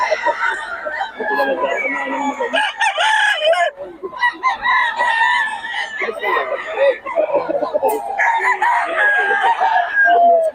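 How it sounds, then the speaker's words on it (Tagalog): Several roosters crow one after another close by, with clucking and other fowl noises filling the gaps. "Puro 3-5 ito mga manok ni Boss Idol."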